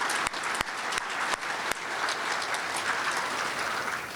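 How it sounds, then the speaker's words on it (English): An audience at a community breakfast event applauds with dense, steady clapping that fills the room, a few sharper claps standing out early, then settling into an even roar that continues to the end. "Let's give them a round of applause."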